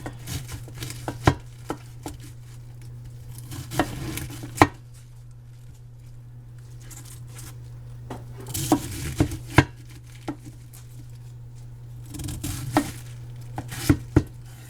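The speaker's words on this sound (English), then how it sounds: "So I've washed and cored my cabbage. So I'm just going to chunk it up." Washed, cored cabbage is chopped into chunks on a cutting board, with bursts of sharp, rapid knife strikes separated by pauses over a steady low hum, close and clear, without talking.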